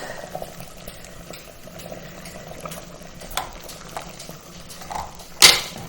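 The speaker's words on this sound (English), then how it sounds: "now you can see the eggs are boiling" Quiet, steady bubbling of water boiling eggs, low and continuous, with a brief sharp clatter near the end.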